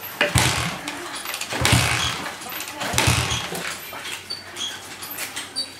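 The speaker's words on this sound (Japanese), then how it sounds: "これをキックすることによってね、エンジンがかかるっていうシステムです" Three forceful kick-start attempts on a motorcycle, each a heavy mechanical thump with rough engine turnover that fades without settling into a steady idle.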